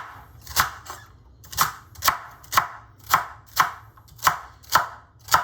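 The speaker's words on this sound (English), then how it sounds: "you can line all your celery up and just do the same kind of chopping" Steady rhythmic chopping, a knife cutting through crisp celery onto a board about twice per second, close and crisp.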